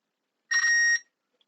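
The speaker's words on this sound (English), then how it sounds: "we need this pin and this pin to beep." A single short electronic tone from a continuity check between two pins on a Befaco Out 1U synth module build, clean and steady for about half a second in otherwise silent surroundings.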